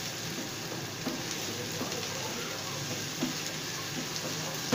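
Mutton curry sizzles and fries steadily in a pan as tomatoes go in, a constant close hiss with a few faint soft clicks and no talking.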